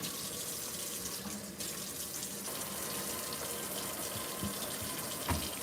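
Water is poured steadily onto sealed wood where it beads up, a continuous splashing trickle that holds throughout, close and even, with a couple of light knocks near the end.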